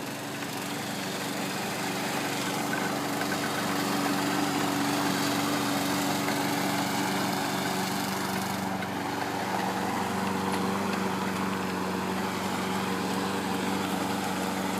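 Lawn mower engine running steadily at close range, a continuous droning hum with harmonic tones that holds through the whole stretch without pause.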